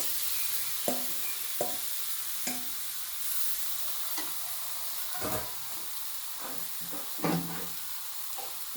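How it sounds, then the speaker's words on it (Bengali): Cabbage dropped into a pan of spices and partly cooked potatoes, frying with a soft steady sizzle while a spoon stirs and scrapes in brief clattering bursts. "এবার আমি বাঁধাকপিগুলো দিয়ে দেবো।"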